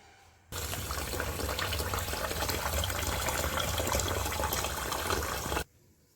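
Water gushes from a tap over rice being washed for fried rice, a steady close rush that starts abruptly and runs about five seconds before cutting off, with quiet room tone on either side.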